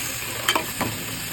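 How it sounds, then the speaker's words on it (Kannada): Onion, tomato, garlic and cashews fry together for a paneer gravy, with a soft, continuous sizzle and a couple of brief scraping stirs, heard close and alone. "ಸೊ ಅದಕ್ಕೆ ನಾವು ಫಸ್ಟು ಎಲ್ಲನೂ ಫ್ರೈ ಮಾಡ್ಕೊತಾ ಇದ್ದೀವಿ."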